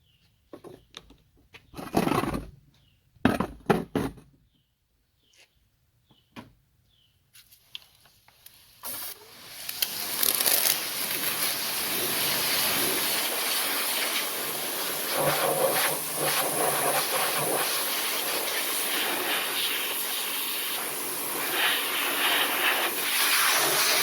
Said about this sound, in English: we'll go ahead and start with the pressure washer first thing on the outside here